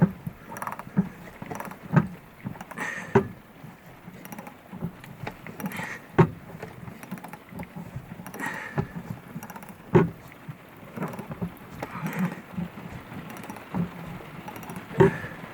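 Steady heavy rain drums down, a dense broadband hiss with scattered sharper taps and knocks throughout, no voices.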